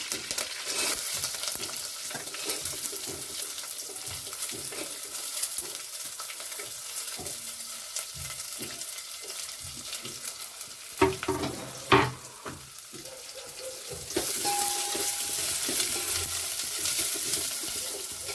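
Chopped onion sizzles and splutters steadily in hot oil, a dense crackling hiss that carries on throughout with a few louder pops and clatters midway, then the frying swells a little louder near the end.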